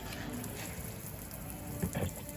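Water splashes onto a floor as the collar on a running pump is undone, a dense wet spattering with a brief louder gush near the end, close by over the pump's steady hum.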